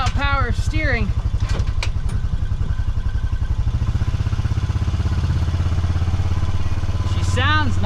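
A Honda Pioneer 500 UTV engine runs steadily on a test drive, a low rhythmic thrum with clattering mechanical texture throughout, close and fairly loud, with a brief voice-like burst near the start and end.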